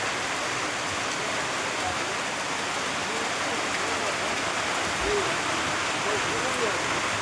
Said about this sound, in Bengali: তেমন বৃষ্টিটা হচ্ছে